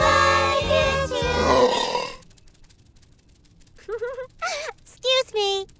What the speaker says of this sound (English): Burps. Happens every time.